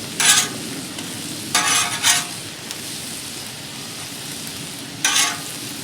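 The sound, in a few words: corn tortillas toasting on a Blackstone griddle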